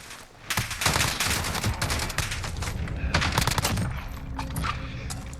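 Sustained bursts of L86 LSW light machine gun fire in Call of Duty Modern Warfare, loud, close and rapid, with short pauses between long strings of shots.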